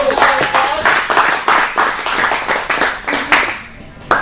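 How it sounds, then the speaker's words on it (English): An audience at a fourth anniversary event in Stockton claps loudly, with distinct individual claps in an uneven rhythm for several seconds and only a little talk. "Have a big round of applause for all of you."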